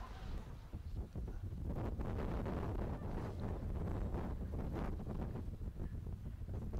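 Strong wind buffets the microphone outdoors, a loud continuous rushing roar with gusty surges throughout.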